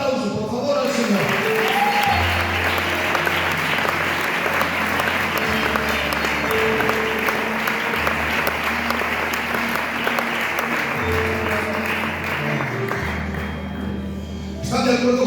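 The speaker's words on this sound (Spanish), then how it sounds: "Dale un aplauso, por favor, al Señor." Clapping fills a church as the congregation gives sustained, loud applause, with a low keyboard or organ tone playing underneath and a voice speaking over it.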